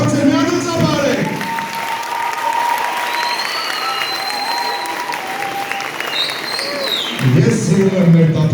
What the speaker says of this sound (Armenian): Բարձր, միանում ծափարեք։